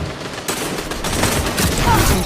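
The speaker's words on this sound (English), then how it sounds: "the Crucible quest for the Mountaintop Grenade Launcher" The Mountaintop Grenade Launcher firing in the sci-fi shooter Destiny 2 fills the clip with loud, dense gunfire-like blasts. They arrive in quick overlapping bursts with no pauses.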